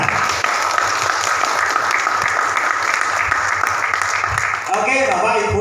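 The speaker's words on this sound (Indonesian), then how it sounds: "Tepuk tangan." Audience applause at a community gathering on national unity, hosted with a local military district command in Banyuwangi, steady clapping throughout with a voice briefly heard near the end.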